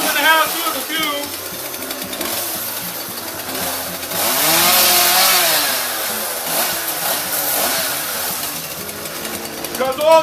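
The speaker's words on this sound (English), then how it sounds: "it's really not recommended to run chainsaws in the house due to the fumes." A chainsaw runs indoors in a house during tree trimming, its buzzing engine rising and falling with a sustained louder stretch in the middle, close and continuous for about ten seconds with no talk over it.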